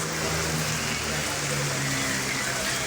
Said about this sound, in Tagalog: umulan na naman, umulan